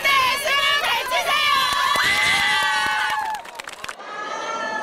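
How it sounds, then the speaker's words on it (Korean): Younger students outside a school cheer and clap for seniors collecting exam admission tickets the day before the college entrance exam, loud high-pitched shouting and whooping that fades near the end. "수험표를 받고 나온 3학년 선배들에게 박수와 응원의 함성을 쏟아냅니다"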